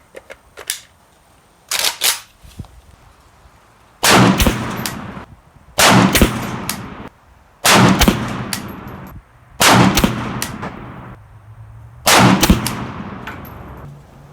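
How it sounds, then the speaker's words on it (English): A PSA AK-P 7.62x39 pistol fires a five-shot group at 50 yards, five loud, evenly spaced booming shots with brief echoing tails, preceded by a couple of smaller mechanical clicks and clacks. "Okay, on to the fifth 5-shot group."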